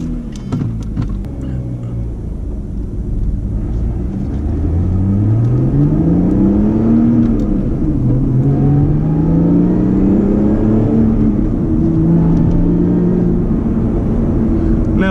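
A Lotus Evora S GP Edition engine revs and pulls through rising, sweeping gear changes, loud and close from inside the cabin, with a steady road rumble underneath.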